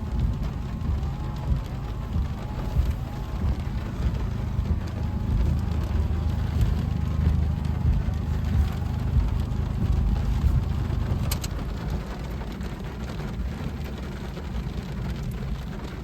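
Heavy rain pounds a car driving through a severe thunderstorm in Wisconsin, a dense, steady roar of water with a low rumble underneath that holds loud and constant throughout, easing slightly near the end.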